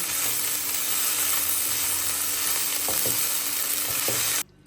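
Noodles with chicken and sauces fry in a pan with a loud, continuous sizzle and repeated scraping stirs, ending abruptly.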